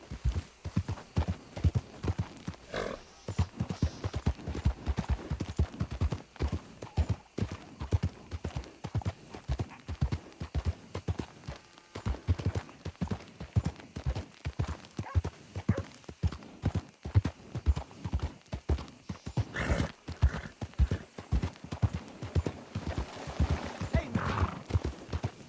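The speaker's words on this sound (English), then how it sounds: "There's a draft horse." Horse hooves clip-clop steadily in Red Dead Redemption 2 near a pasture with draft horses, Belgians, Morgans and Tennessee Walkers; the rhythmic hoofbeats run throughout with occasional whinnies, and someone talks over them.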